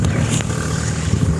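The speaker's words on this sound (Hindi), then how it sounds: "यहाँ पर दो दो गाड़ियाँ चल रही" Vehicles drive along a rural road near rice paddy fields, with a steady loud engine rumble and wind noise throughout, and no clear pass-by peak.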